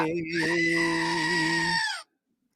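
A goat bleats in one long, sustained, wavering call lasting about two seconds, loud and close, then cuts off abruptly into silence.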